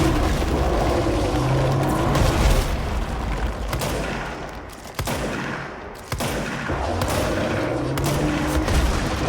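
Rockets fire and explode in a video game, a dense run of booming bursts and crackling blasts over about nine seconds, loud and continuous with brief lulls.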